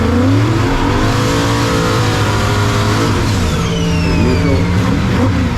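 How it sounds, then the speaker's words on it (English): A 2500hp G-body drag car does a rolling burnout, its engine roaring loud and continuous at close range, with the pitch climbing and falling under throttle and a harsh tire-spin rasp mixed in. "So that right there is your quick little how to do a rolling burnout."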